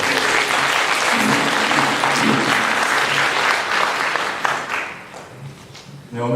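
A church congregation claps vigorously during a Sunday service, loud and sustained applause with a faint murmur of voices beneath it, thinning slightly toward the end.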